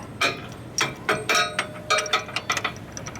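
A large ratchet spun on a socket during a rear wheel and axle job on a 2017 Harley M8 Touring, giving several quick bursts of close, bright ratcheting clicks with short pauses between them.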